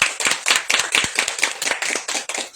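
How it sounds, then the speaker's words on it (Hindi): Loud, rapid clapping from a church congregation during a Christian prayer gathering, dense overlapping handclaps sustained throughout without pause. "जोरदार ताली।"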